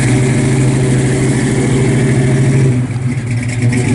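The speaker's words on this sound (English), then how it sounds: "Good sounding truck." A 1967 Chevrolet C10 shortbox custom pickup truck runs loud and close with a deep, throbbing idle that briefly flutters and dips before settling back.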